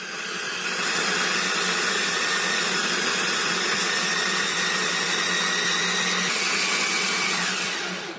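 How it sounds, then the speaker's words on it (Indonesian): A Mitochiba electric food chopper grinds spice paste for pepes, giving a loud, steady whirring motor drone that starts up, holds for several seconds and then winds down, with no voices. "Aku menggunakan food chopper Mitochiba ya"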